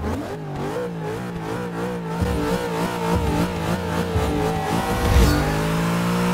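A mint green Pontiac Aztek in Forza Motorsport 6 revs its engine steadily, the pitch wavering up and down in repeated surges before climbing higher toward the end, heard alone without talk.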